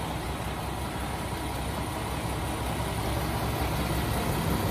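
A 2015 truck with a PACCAR 510 horsepower engine idles steadily, a dense, continuous low rumble with a broad hiss on top, loud and close, with no talking.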